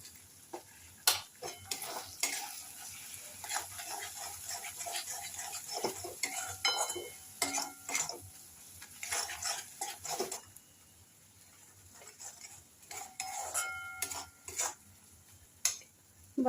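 A spoon stirs cumin powder, Kashmiri chilli powder and salt in a cooking pan for a paneer corn dish, giving close, repeated scraping and clinking taps at an uneven rhythm, with no talking.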